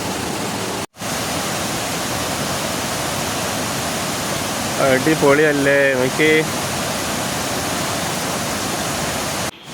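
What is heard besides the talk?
waterfall flowing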